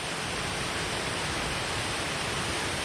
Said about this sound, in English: Little waterfall on the way up.